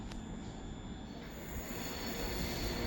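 Train running past near Northampton, a steady broad rumble of wheels and carriages close by, slowly swelling in loudness with a faint high whine above, no voices.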